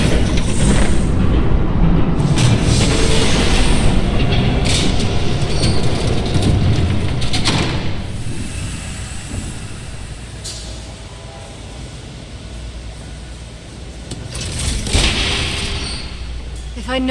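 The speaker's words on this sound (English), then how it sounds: "There's a train coming." Train passing in the Batman Telltale Series video game, a loud, steady rumble and rolling roar that stays dense throughout, easing slightly midway before a heavy thump and some clatter near the end.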